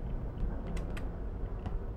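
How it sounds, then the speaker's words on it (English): A mouse button is clicked repeatedly while playing Among Us: a few faint, sharp clicks in quick succession over low background hum, close to the microphone. "You can hear me furiously clicking it"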